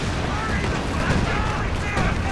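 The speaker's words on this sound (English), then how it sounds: "Now there's a strafe." An air strafing run in Company of Heroes tears across a 4v4 battle on Hill 400: loud, dense gunfire and blasts roll on without a break for a couple of seconds, thick with battle noise.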